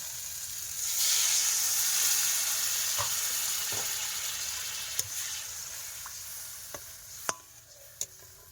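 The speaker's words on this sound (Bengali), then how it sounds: "এবারে জল দেবো।" Water poured into a hot pan of koi fish curry sets off a loud hissing sizzle that swells then gradually fades, leaving softer bubbling and a few sharp clinks of a utensil near the end.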